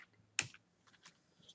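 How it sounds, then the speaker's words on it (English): Faint, sparse typing on a computer keyboard: a sharp keystroke, then scattered light taps in a quiet room. "I type something like unknown."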